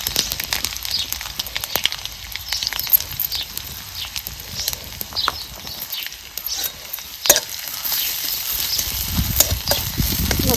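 Cumin seeds, then crushed garlic and coconut, sizzle in hot oil in a home kitchen while making lemon pickle with jaggery, a steady close crackle broken by stirring scrapes and bursts of spitting, with no talk.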